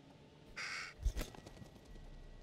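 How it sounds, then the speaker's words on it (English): In the video game The Devil In Me, a crow gives one sharp, close caw, then a couple of low thuds and a softer call follow over a quiet background. "Yeah, you're not jump scaring me, bird."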